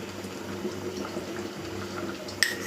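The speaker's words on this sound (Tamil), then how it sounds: "இன்னும் ஒரு 5 நிமிஷம் நல்லா அது கொதித்து வரட்டும்." A dish simmering in a covered pot gives a steady, soft bubbling hiss throughout, with a brief light clink near the end.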